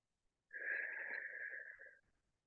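A single long, raspy exhale lasting about a second and a half, close and fairly clear, taken during a floor balance exercise with a leg and arm lifted.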